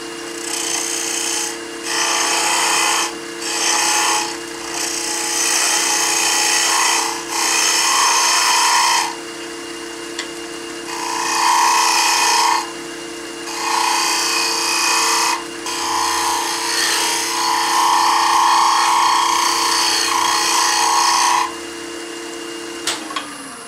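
A Drozda-type box scraper, leveled on both sides, scrapes and shapes a piece of wood in repeated long rasping strokes with short pauses between them, loud and close.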